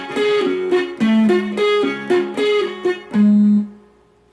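Electric guitar picking a verse riff at a slow tempo, a clean sequence of distinct plucked notes and short phrases up close, ending on a held note that rings out into near silence, with no talking.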